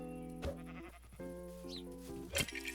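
A sheep bleats in Minecraft, several short wavering bleats close by, alone in a quiet scene.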